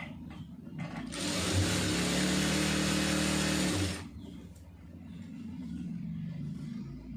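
A sewing machine runs a continuous stitch through folded fabric for about three seconds with an even mechanical whir, then stops, leaving quiet handling sounds.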